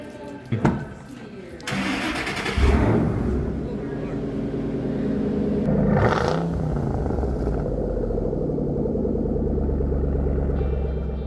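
A Shelby car engine cranks and fires up with a loud burst, then settles into a throaty rumbling idle that swells with a rev before holding steady, while people talk in the background.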